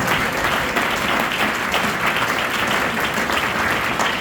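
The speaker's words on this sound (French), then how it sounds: "Acclame Jésus" A church congregation applauds to acclaim Jesus during a night worship service, a steady dense wall of clapping from many hands that fills the whole stretch, loud and close without a break.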